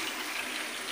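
Water from a semi-automatic steam boiler blowdown gushes through the drain in a brief, steady rush under pressure, a close, hissing flow with no talking.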